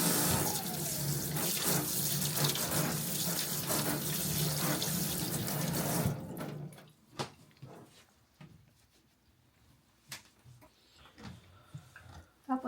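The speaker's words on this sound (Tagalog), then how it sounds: "Nagugas na ho siya ng kamay niya." Tap water running loudly into a kitchen sink as hands are washed for about six seconds, then cutting off, leaving scattered quiet clinks and knocks from nearby handling.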